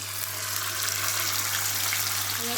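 Marinated mutton sizzles loudly in a pan with fried onions and chopped tomato while cooking a green chilli and coriander mutton curry, a steady close hiss without talk.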